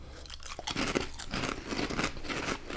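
Ruffles Double Crunch Hot Wings potato chips are bitten and chewed up close, giving a run of loud, crisp crunches in an uneven chewing rhythm with no talk.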